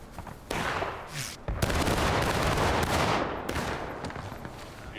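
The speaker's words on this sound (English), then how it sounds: "Good shooting, Private." Volleys of gunfire ring out at the Blue and Grey event, loud overlapping blasts and rapid bursts rolling continuously for several seconds with sharp onsets and echoing decay.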